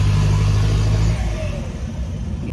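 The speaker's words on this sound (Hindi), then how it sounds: "बस जो टर्बो की आ रही है वो बढ़िया आ रही है। मैं सुनाता हूँ एक बार आपको।" Jeep fitted with an SC Project exhaust, its engine running with a steady low rumble and turbo whine, loud and close, easing slightly midway with no talking.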